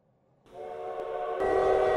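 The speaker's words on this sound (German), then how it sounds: "Zug zur Rettung." A train in the video game Lobotomy Corporation sounds a horn-like whistle that starts suddenly and swells louder, a steady tonal blare with rumbling beneath, faint at first.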